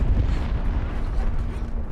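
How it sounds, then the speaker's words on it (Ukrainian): A deep, sustained rumbling blast roars loudly for the full length, heavy low-end booming with no voices, a nuclear explosion in the video game Split Fiction. "Це ядерний вибух, мабуть."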